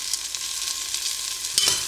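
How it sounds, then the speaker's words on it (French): Onions frying in hot cooking oil in a cast-iron pot over medium-high heat, a steady close sizzle with a brief louder burst near the end as they are stirred. "j'ai fait chauffer ma cocotte à feu moyen fort, j'ai ajouté de l'huile de cuisson et j'ajoute mes oignons."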